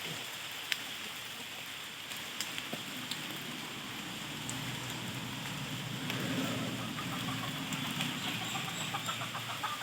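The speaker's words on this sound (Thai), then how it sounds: "ตัวนี้ก็ฝนก็ตกนะครับ" Steady rain patters softly and continuously on a rural Thai farm where gamecocks are kept, a faint even hiss with occasional chicken sounds and small clicks.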